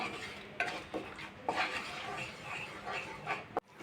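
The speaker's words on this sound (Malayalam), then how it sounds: "മിക്സ് ചെയ്ത് കൊടുക്കാം" A gooseberry pickle mixture with vinegar stirred in a pan: soft repeated scraping and clinks of a spoon against the metal, fairly quiet and close, with a sharp knock near the end.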